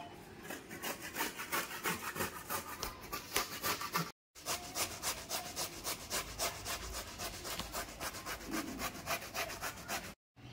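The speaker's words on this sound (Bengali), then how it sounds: "নিয়ে আমি একটু গ্রেটারে ঘষে নেব।" Bottle gourd being grated by hand on a kitchen grater makes quick, even rasping strokes in a steady rhythm, close and fairly loud, with two brief pauses.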